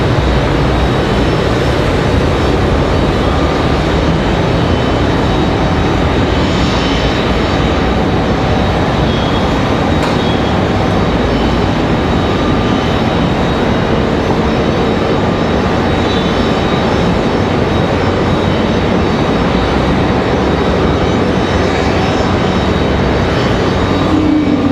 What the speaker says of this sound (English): Here comes our A220.